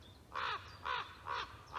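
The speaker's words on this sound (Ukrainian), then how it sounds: "Ворона настирлива така вчепилася до мене і кричить" A persistent crow in spring woodland gives three harsh caws at a regular pace, clear but somewhat distant, over a quiet outdoor background.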